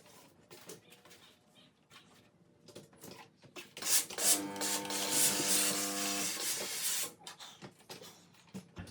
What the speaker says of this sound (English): So the first thing I do is iron it flat.